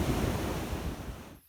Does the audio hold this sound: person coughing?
no